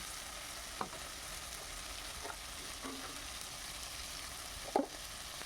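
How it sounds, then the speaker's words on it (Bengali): Whole cinnamon, cardamom and cloves frying in oil give a soft, even sizzle, with a few brief clicks and scrapes of stirring, quiet and close with no talking. "তেলের মধ্যে দিয়ে মশলাটাকে ভালো করে কষিয়ে নিচ্ছি।"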